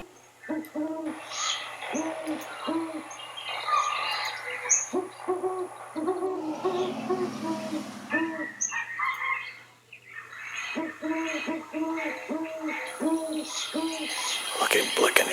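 An owl at a nature preserve hoots in repeated, evenly spaced bursts of low, hollow calls, with a short pause midway before the calls resume.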